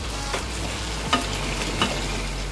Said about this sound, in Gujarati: હવે ફરીથી મિક્સ કરી લઈશું. આપણે હલકા હાથેથી મિક્સ કરવાનું છે